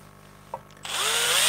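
A power drill spins up and bores into wood for a woodworking project, a brief tap first, then a rising whine that settles into a steady loud drilling.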